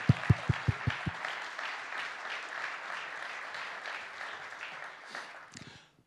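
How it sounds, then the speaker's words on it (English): An audience at an MRI lecture afternoon at BLOX applauds the speakers: a few loud, close claps at the start, then sustained steady clapping from the crowd that fades out near the end. "So please give them a big round of applause"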